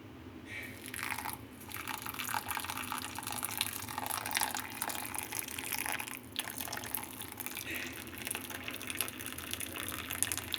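Hot water poured steadily into a snack container for ten seconds, a continuous broadband splashing gush at moderate level with no talk.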